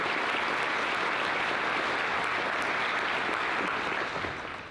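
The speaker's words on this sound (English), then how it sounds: "Please give them a round of applause." Dense, sustained audience applause fills the room at a school world language honor society induction ceremony, loud and steady throughout and only starting to thin at the very end.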